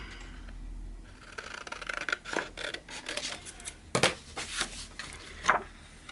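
Scissors snip through paper while a junk journal tag holder is trimmed, a series of close, crisp cuts and rustles in uneven bursts, with sharper snaps near the end.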